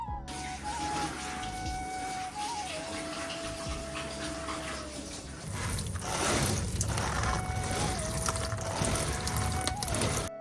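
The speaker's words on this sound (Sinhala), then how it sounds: "මිංචි පැලේටත් ඒ ගමම්ම වතුර ටිකක් දාගත්තා" Water poured onto potted rosemary and chili plants in Japan, a continuous splashing trickle that grows louder and denser partway through, with a steady tonal hum behind it.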